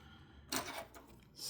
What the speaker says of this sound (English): You just kind of line it up just like that. Listen for the snap.